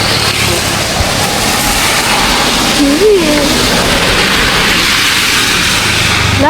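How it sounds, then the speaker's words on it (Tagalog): Heavy rain pours down steadily in a dense, loud wash with an engine-like rumble underneath, and a voice speaks briefly over it. "Kasi bigla na naman bumuhos ang ulan."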